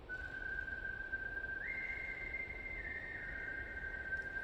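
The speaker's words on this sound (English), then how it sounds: "he started whistling quietly" Quiet whistling of a slow, somber melody in an empty building, long sustained tones stepping up and then back down, soft and fairly close over a low hiss, no talking.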